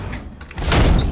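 A door in a chocolate factory swings and shuts with a short whoosh and a heavy thud at the end, loud and close with no speech.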